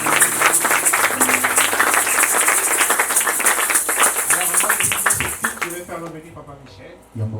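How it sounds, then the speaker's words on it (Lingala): A church congregation applauds and cheers loudly and steadily, a dense wash of clapping that fades out near the end, with talk underneath. "est-ce qu'on peut acclamer pour tout ça?"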